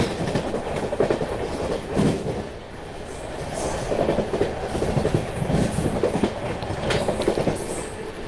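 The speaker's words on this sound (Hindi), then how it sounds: "चलिए स्किप मार रहे हैं इटावा जंक्शन को।" The Amrit Bharat Express train runs through Etawah Junction without stopping, heard from on board as a loud steady rumble with rhythmic clickety-clack of wheels over rail joints.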